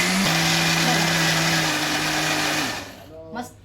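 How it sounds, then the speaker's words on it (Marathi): A kitchen mixer grinder runs loud and steady while grinding dosa batter, a sustained whirring drone that shifts pitch partway through and then stops, winding down near the end. "मिक्सरमध्ये सगळं बारीक"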